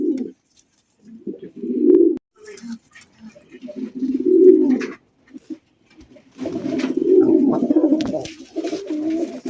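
A male pigeon cooing close by in repeated low, throaty bursts, pausing between phrases and then running into a longer rolling coo, with faint background noise.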